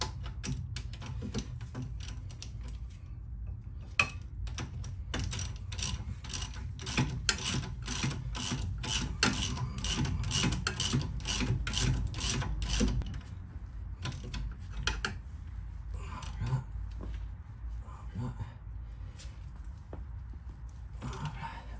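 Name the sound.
tightening Renault Twingo front shock absorber bolts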